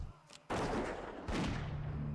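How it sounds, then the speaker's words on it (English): A World of Warcraft hunter fires a gun while leveling in a hardcore game: two loud, close blasts about three-quarters of a second apart, each with a long ringing tail, with no talking. "Alright, shoot the gun."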